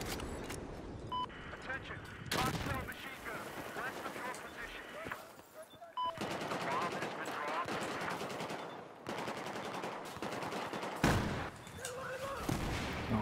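Machine gun fire in the Battlefield 4 video game, steady bursts of shots alongside other battlefield noise, with speech heard over the fighting.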